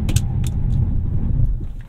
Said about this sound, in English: Let's try the brakes out, shall we? And full brakes.